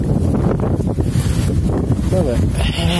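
Loud, buffeting wind rumbling straight into the microphone, constant and close, with a faint voice barely audible beneath it.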